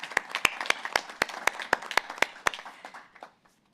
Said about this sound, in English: I think we need a round of applause